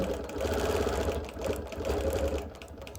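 A sewing machine runs steadily, quilting an outline around a large applique block, its motor hum and rapid needle rhythm continuous and close with slight rises and dips in speed.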